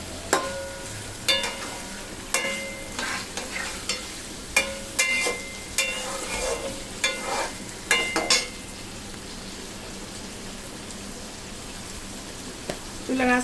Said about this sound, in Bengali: চুলার আঁচটা মিডিয়াম আঁচে রাখবেন যাতে করে মশলা টশলা পুড়ে না যায়।